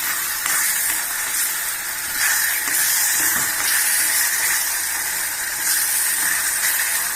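Temple-style tamarind rice paste bubbling and sizzling in hot oil on a stove, a loud steady hiss with crackling swells that keeps going the whole time.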